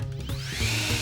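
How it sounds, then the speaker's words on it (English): A leaf blower hooked up to a pipe runs with a steady low mechanical drone, and a rising whine climbs in pitch as it spins up, all within about a second. "We have our leaf blower connected to a pipe and a big hole cut in the top with this box over it."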